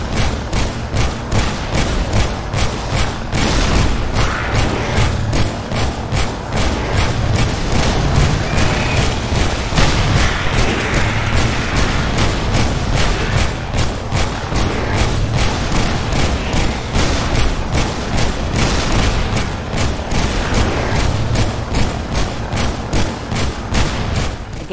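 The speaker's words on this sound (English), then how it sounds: "both shots are firing at the same time" Rapid, steady gunfire from two weapons firing together in the video game Halo: Spartan Strike, a loud continuous stream of shots with booming impacts and no speech.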